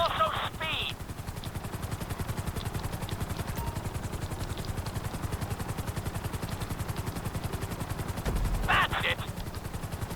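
Helicopter flying in GTA 5, a loud, close, continuous rotor chop with rapid rhythmic thumping and brief bursts of game sounds near the start and end.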